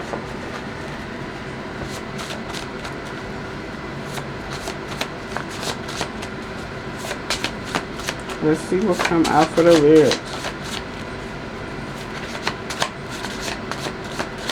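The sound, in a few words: shuffling cards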